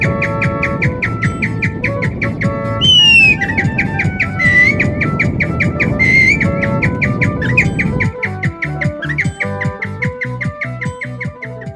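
A blind folk performer skilled in vocal mimicry whistles convincing bird calls, a steady run of bright chirps, trills and rising squawks that repeat in quick rhythmic bursts, close and fairly loud with a droning accompaniment underneath, no speech.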